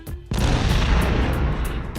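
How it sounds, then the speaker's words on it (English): A big, booming explosion in the Roblox-style game Anime Fighting Simulator: a sudden loud blast at once rolling into a sustained rumbling roar, with no talking. "Big, huge explosion."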